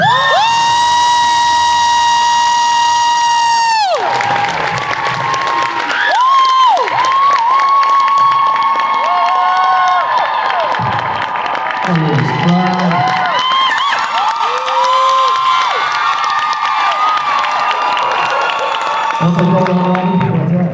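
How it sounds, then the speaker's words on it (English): A hometown convention crowd in Vancouver cheers and applauds loudly and steadily for Jensen Ackles, with whoops rising over sustained clapping. A sustained tone sounds at the start, and a voice speaks briefly through the noise. "It's called a hometown crowd right there."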